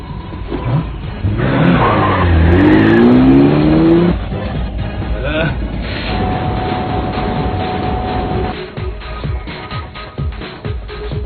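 Cars race through traffic in an anime chase scene, with a loud revving engine and squealing tires surging up early, then a steady rumble of passing vehicles and road noise continuing to the end.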